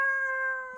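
A person's voice mimics a cat's meow, giving one short, sustained, tonal call heard close and alone.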